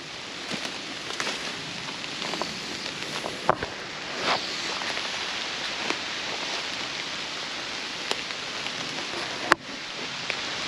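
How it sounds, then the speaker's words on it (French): Steady rain patters through a forest during a November mushroom hunt, making a broad, even hiss with scattered drips and a few sharp taps from nearby footsteps or gear. "il commence à bien pleuvoir"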